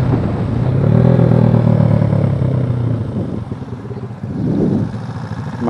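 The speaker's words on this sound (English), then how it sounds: "Listen to that exhaust." A 6.5-litre car at a car meet lets its exhaust rumble loudly, swelling to a strong rev early on, easing, then blipping again near the end.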